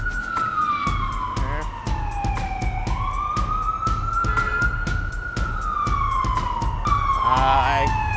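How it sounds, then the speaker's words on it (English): An ambulance siren wails continuously, its pitch sweeping down and back up in slow cycles, loud and close over the rumble of New York city traffic. "ambulances."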